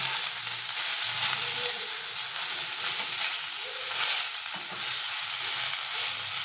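Kharkol leaves dry-frying with a little salt in a pan, a steady bright sizzle broken by soft rhythmic swishes of stirring, close and continuous, no talking.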